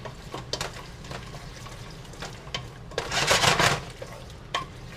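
Onions, garlic, ginger, red pepper and allspice cook together in a pot for homemade ketchup, with steady sizzling and scattered scraping stirs that swell into a louder burst partway through. No one speaks.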